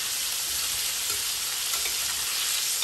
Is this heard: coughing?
no